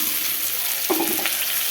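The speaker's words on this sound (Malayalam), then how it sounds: "മുരിങ്ങയില ഒന്ന് ചേർത്ത് ഒന്ന് വഴറ്റിയെടുക്കണം." Drumstick leaves sauté in hot oil with fried mustard seeds, onion and chilli, giving a steady close sizzle with a brief stirring scrape partway through.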